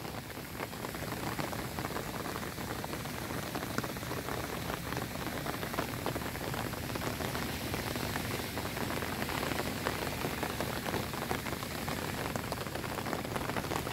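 Steady rain falls on small white flowers among garden plants in Tainan, Taiwan, a dense, continuous patter of drops that holds an even level throughout with no voices.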